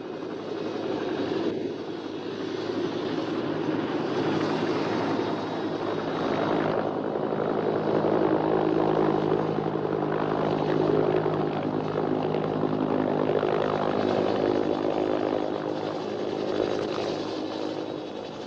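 A military helicopter at a jungle border fort idles and drones nearby, a steady, loud engine and rotor hum that swells slightly and holds throughout without talk.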